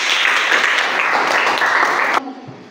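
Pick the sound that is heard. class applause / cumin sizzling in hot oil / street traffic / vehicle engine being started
class applause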